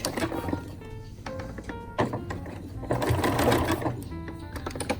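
A sewing machine stitching a skirt hem runs in steady bursts of rapid mechanical needle clatter, pausing briefly and starting again, close and moderately loud with a faint hum beneath.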